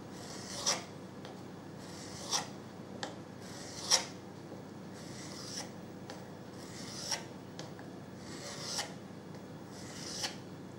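Single-bevel strokes sharpen a Scandinavian-grind knife held flat on one side, a series of soft, evenly spaced scraping rasps, quiet and close, with no talk.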